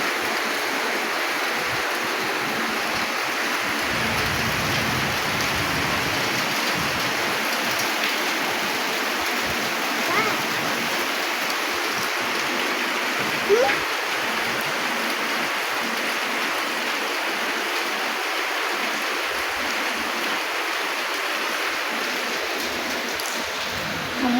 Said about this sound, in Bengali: আজকে এই যে এত গরমের পরে বৃষ্টি নামছে